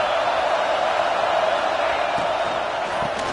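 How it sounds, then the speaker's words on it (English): A loud, sustained stadium crowd roars in a college football video game, with a few faint whoops rising from the steady wash near the end. "This crowd trying to make life miserable for this offense."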